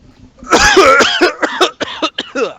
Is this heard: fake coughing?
yes